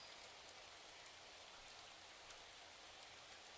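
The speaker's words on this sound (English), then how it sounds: "back to these soothing rain sounds" Steady, soothing rainfall patters evenly on surfaces with a soft continuous hiss, faint and unbroken, with no voices.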